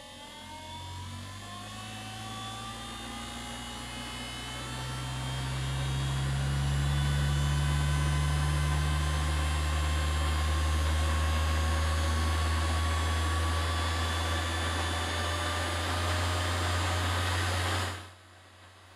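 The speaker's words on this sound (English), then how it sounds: "I found this 12 volt 30 watt motor online and adapted the setup to it" A small 12 volt 30 watt motor spins a vacuum impeller in a steady, loud whine with a strong low hum, ramping up over several seconds, holding a constant drone, then cutting off near the end.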